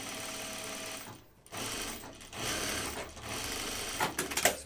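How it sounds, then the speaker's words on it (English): Domestic sewing machine top stitching a jeans pocket through denim and serged edge, running in steady close bursts with brief pauses between runs and a few sharp clicks near the end; no talking. "So I'm just going to top stitch this down"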